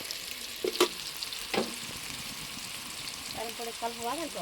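Tempering spices sizzle in a pan for a village-style festival meal, with a soft steady frying hiss, a couple of sharp pops or clinks, and faint voices underneath toward the end.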